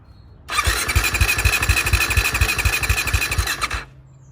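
A 2022 Husqvarna FC 350 dirt bike engine cranks and catches, running with a loud, fast, rough pulsing idle for about three seconds before cutting off abruptly, with no talk over it.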